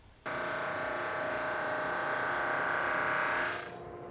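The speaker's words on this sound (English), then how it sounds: "I started sanding down the panels with the drum sander" Wood panels run through a drum sander, a steady close electric hum starting abruptly, holding for about three seconds, then winding down, with no voices.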